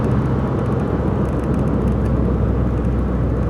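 A small Chevy SUV drives past on the road, a steady broadband whoosh of tires and engine heard from inside a moving car, with no voices.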